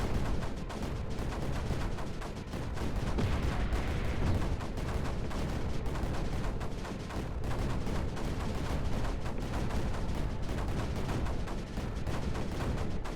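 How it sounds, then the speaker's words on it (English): Dense, steady barrage of rapid mortar and artillery-style shots from a real-time strategy game, Creeper World 4, continuous and fairly loud for the whole stretch with no talking. "I can put some mortars up in this immediate area."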